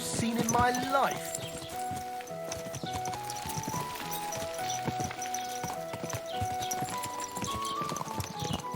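A horse plods along in Kingdom Come: Deliverance II, its hooves knocking in a regular clip-clop rhythm, close and clear, under a music score, with a brief vocal swell at the start and talking.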